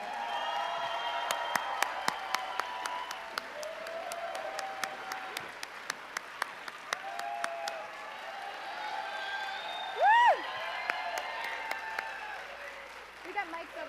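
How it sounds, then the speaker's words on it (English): A convention crowd at Phoenix Comicon claps for Farscape guests: sustained, scattered applause with sharp individual claps, mixed with voices throughout. "let's give them a huge round of applause, everybody"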